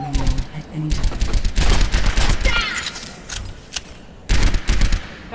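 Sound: gunfire in the video game Overwatch

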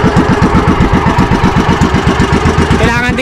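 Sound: fishing boat engine running

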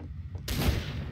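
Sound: gunshot in a video game

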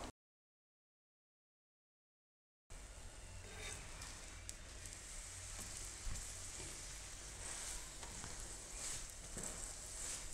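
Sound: radish paratha frying on a pan

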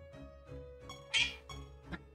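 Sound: meowing duck creature sound from video game Siralim Ultimate

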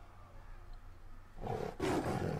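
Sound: tiger roar from card game Elder Scrolls Legends

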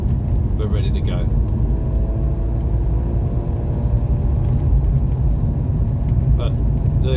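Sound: BMW E36 M3 3.0 engine driving

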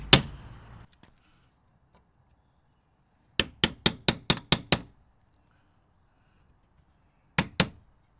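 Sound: small pin hammer tapping on window frame

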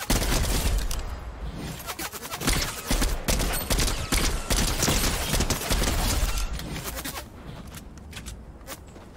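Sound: gunfire from henchmen in the video game Fortnite

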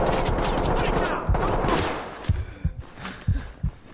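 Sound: gunshots in Ready or Not video game

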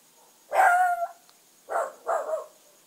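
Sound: puppy barking

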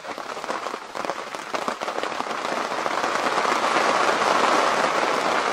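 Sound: heavy rain on an arctic tent

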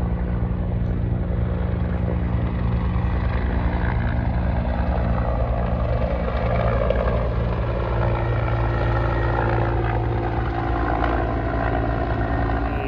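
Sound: helicopter flying overhead

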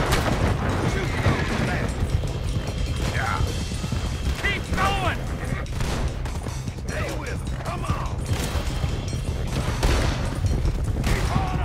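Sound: gunfire in the video game Red Dead Redemption 2

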